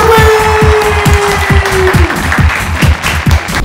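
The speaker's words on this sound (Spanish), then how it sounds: "un fuerte aplauso a Mario Ruiz" Loud studio audience applause welcoming Mario Ruiz onto a talk show set, a bright crowd clatter running over a steady, pulsing musical beat for the whole stretch.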